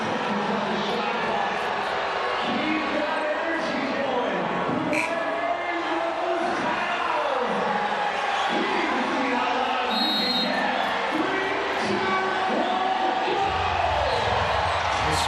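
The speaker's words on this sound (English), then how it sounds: "This crowd has been buzzing all weekend." Crowd buzzing in a basketball arena during a WNBA playoff game between the Liberty and the Aces, a dense steady roar with scattered cheers and squeaks, under continuous commentary.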